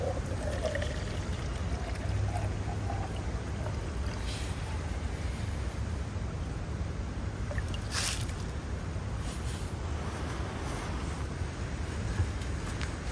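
Drinking water pours from a Grayl Geopress purifier bottle outdoors on a trail, a steady close trickling pour lasting several seconds over faint outdoor background.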